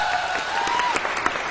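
Steady audience clapping fills the room throughout, dense and even with a few sharper individual claps near the end, and a faint voice tone running underneath.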